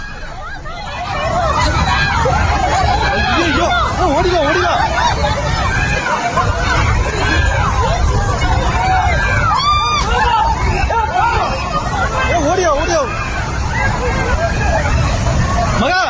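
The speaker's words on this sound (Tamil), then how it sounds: "பொதுமக்கள், சுற்றுலா பயணிகள் பதறி ஓடிய காட்சிகள் நெஞ்சை பதற வைக்கிறது" A crowd of tourists flees a flash flood at a waterfall, a loud, dense hubbub of shouting and agitated voices over a constant roar of rushing water.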